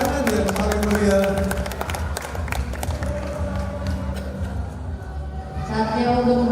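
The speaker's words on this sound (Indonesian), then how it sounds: "Sekali lagi kita sambut dengan tepuk tangan yang paling meriah." A crowd applauds and cheers at a Christmas celebration and alumni board installation at Perguruan Kristen Immanuel Medan. The clapping is dense and close, swelling at the start and end, with voices mixed into the noise.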